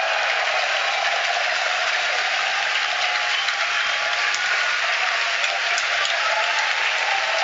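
Cheering and clapping fill a launch control room during a SpaceX Falcon Heavy flight, a continuous, loud wash of crowd noise with small crackling accents and no break.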